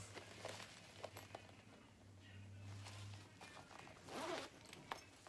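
A purse's inner zipper pocket is opened, giving a few quick, close zipping rasps with soft handling rustle between them and a louder pull near the end.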